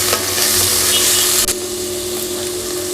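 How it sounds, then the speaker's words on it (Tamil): Chopped onion with curry leaves sautéing in a pan, a loud, steady sizzle with brief stirring scrapes, close and without talk. "வெங்காயத்தோட பச்சை வாசனை போகிற வரைக்கும் வதக்கி விட்டுக்கலாம்"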